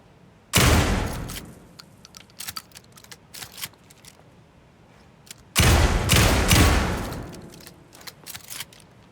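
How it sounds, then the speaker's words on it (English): Fully automatic 12 gauge shotgun firing in Alan Wake 2, two loud bursts of rapid blasts about five seconds apart, each followed by rattling clatter, with no talking. "My trusty 12 gauge, fully automatic. Extreme circumstances call for extreme shotguns."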